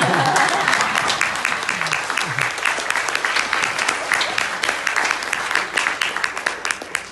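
An audience bursts into applause at a health talk, dense clapping that thins toward the end into scattered individual claps, with a few voices briefly heard near the start.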